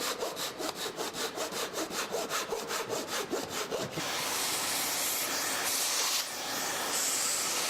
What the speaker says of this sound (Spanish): Scrape the surface.